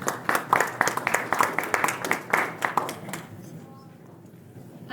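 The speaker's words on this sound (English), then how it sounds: "Let's give them a round of applause" Audience clapping for panelists at a film festival panel discussion, a short burst of applause that fades out within a few seconds and leaves a quiet room.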